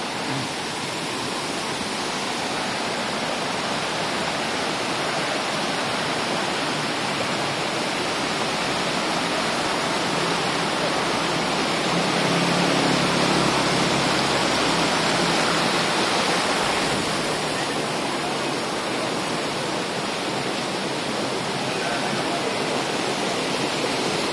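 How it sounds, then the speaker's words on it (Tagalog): A strong river current in a fairly deep stretch, rushing as a steady, loud broadband roar that swells a little partway through, with no talk over it. "Malakas na yung agos dito, saka medyo malalim."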